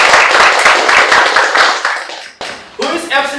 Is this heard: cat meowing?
no